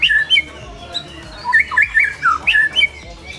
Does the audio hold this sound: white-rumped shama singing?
yes